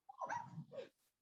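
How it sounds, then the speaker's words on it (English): A single dog gives one short, close bark-like call, a two-part yelp lasting under a second, followed by brief quiet. "That's just a dog that wanted to say hello."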